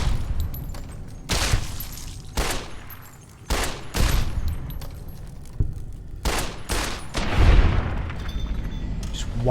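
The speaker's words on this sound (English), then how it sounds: "wildly firing into the floorboards" Gunfire in Fallout: New Vegas rings out in loud, irregular volleys of close shots and rapid bursts, separated by short gaps.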